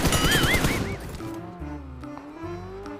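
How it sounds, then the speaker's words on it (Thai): Gunfire in the PUBG Mobile game: a burst of rapid shots rings out at the start, followed by a softer, echoing tail and a few scattered distant pops. "ด้านหลังเหมือนจะมีคนยิงเสียงปืนคามานะครับ"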